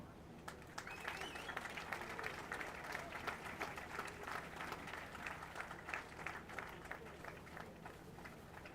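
Crowd at a national rowing championship award ceremony applauding the Sri Lanka Army crew, winners of the men's open pair, with sustained, fairly distant clapping and a few sharp individual claps, faint murmurs underneath.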